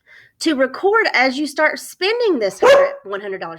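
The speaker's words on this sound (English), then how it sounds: "that was my dog" Buddy, a pet dog indoors, gives several loud, close barks and yips mixed in with a person talking over them.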